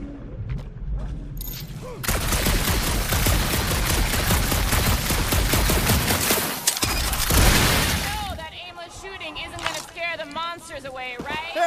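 Rapid, dense gunfire from a first-person shooter combat scene in Guardians of the Galaxy, a loud sustained fusillade with booms and shattering, giving way to scattered effects and voices talking afterward.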